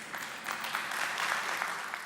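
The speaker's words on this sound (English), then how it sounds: "Let's give a round of applause for Mr. Will Butler." Faint, brief applause from an audience at a youth summit event, soft scattered clapping heard at a distance for a couple of seconds.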